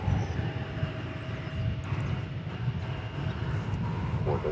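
An airliner departs DFW Airport for a long transpacific flight, its engines giving a low, rumbling drone of moderate loudness that holds steady for a few seconds, with a voice talking over it.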